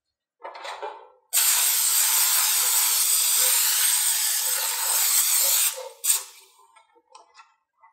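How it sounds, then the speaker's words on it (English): Cooking spray hisses from a can into a pan for about four seconds, a steady, close hiss, while venison bacon is being prepared, with small handling clatters before and after. "So I'm just going to hit this up with a little bit of spray"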